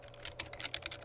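Quick, light keystrokes on a computer keyboard while composing a business letter in Microsoft Word 2007, a soft rapid run of clicks heard alone and fairly faint.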